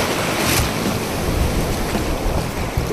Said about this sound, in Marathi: अरे बापरे मोठी लाट आली.